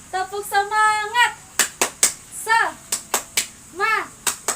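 About ten crisp hand claps in quick rhythmic clusters from a children's Sunday-school clapping chant led by a teacher, alternating with a young voice singing the words between the claps.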